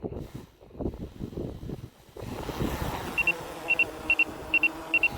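Autel Evo Lite+ drone motors spinning up for an automatic takeoff outdoors, rising from gusty wind rumble into a steady whirring buzz, punctuated by a series of short regular electronic beeps.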